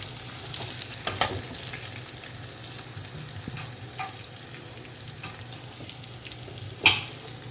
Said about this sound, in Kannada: ಈ ತುರಿದುಕೊಂಡ ಮುಳ್ಳು ಸೌತೆಯನ್ನು ಈ ಒಗ್ಗರಣೆಗೆ ಸೇರಿಸಿಕೊಳ್ಬೇಕು.